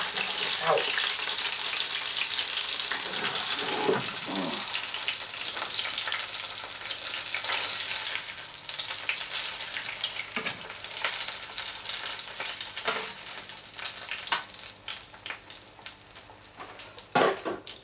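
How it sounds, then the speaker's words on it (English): Beer-battered fish deep-frying in oil for fish and chips, a dense continuous crackling sizzle with occasional clinks and knocks of utensils, close by and without speech. "you just want to fry it until it's golden brown"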